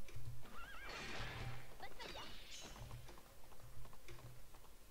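Horses in the video game Alicia Online neigh in rising whinnies and gallop with rhythmic clip-clop hoofbeats, fairly close and loud, while a voice talks over them.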